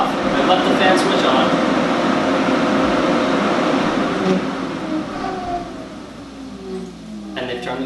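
Radiator cooling fans of a Porsche 996 whir steadily after the engine is switched off, a broad continuous rushing hum that fades slightly toward the end, with a few faint squeaks as they wind down.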